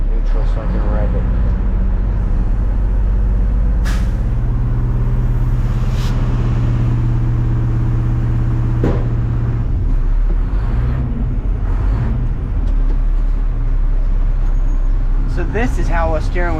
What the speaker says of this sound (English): let's just put that in neutral so I can rev it.